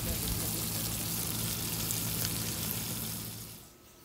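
Round kebabs fry in a pan, turned with tongs, making a dense, even close sizzle that holds steady and then eases off near the end.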